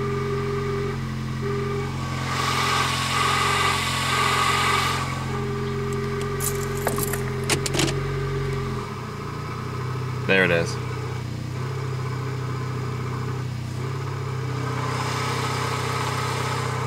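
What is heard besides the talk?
power steering pump noise, 1999 Toyota Corolla 1.8 engine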